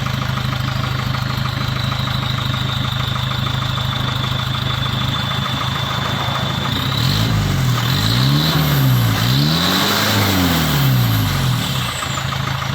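A car engine with a stainless steel exhaust idles loudly nearby, then revs up and down several times in rising and falling sweeps before settling back.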